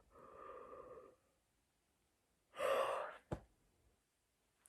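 A tired, pregnant woman lets out a single close, breathy yawn after a short stretch of quiet, with a soft exhale sound before it and a brief click just after.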